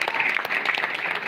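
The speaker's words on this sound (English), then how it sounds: "You need to give a big round of applause, man." An audience at an interaction with the cast of Tripling claps in brief applause, a dense, close patter of hands.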